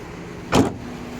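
A 2008 Suzuki Grand Vitara's electric power window, a single brief motor whir or thunk from inside the car, close and isolated against quiet background hum.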